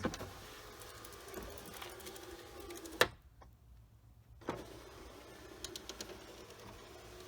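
A freshly lubricated but weak power window motor on a car with over 300,000 miles runs with a faint, strained whir and light clicks, stopping briefly before starting again, close and quiet with no talking.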